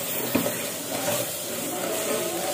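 Biryani masala with mint and coriander is stirred in a pan: a soft, steady sizzle with one sharp scrape early on and gentle stirring noises after it.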